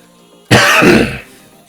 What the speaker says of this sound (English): Sorry about all the coughing, guys.